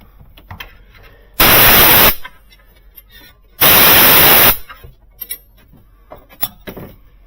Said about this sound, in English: I just use a little WD-40 whenever I clean hoses or wires